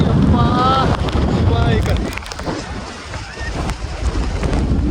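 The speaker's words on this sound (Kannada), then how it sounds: "ಗಾಳಿ ನೋಡಿ" Strong wind on Brahmagiri Hills buffets the microphone in loud rumbling gusts that ease in the middle and pick up again, with a voice speaking briefly at the start.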